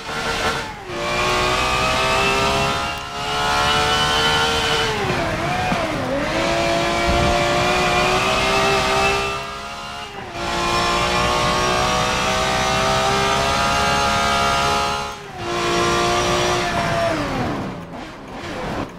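A race car engine in Forza Motorsport 7 screams loud and close at high revs, rising and falling through repeated gear shifts with brief dips between long sustained pulls and a short tire squeal.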